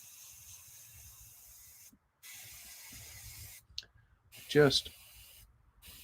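An airbrush sprays a paint mix onto a scale model in short, soft hissing bursts, faint and close, with brief pauses and quiet handling noises between them.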